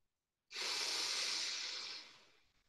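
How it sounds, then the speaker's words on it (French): A single long, steady exhalation through the nose or mouth during a kundalini breathing exercise, a loud breathy hiss that begins abruptly, holds for about a second and a half, then trails off softly. "Inspire. Et expire complètement."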